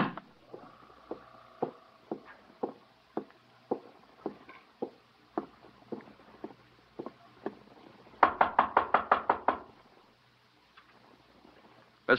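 Knocking on a hotel room door as a radio drama effect: a long series of separate single raps at an uneven pace, then a quick, louder burst of about eight hard knocks before it falls quiet.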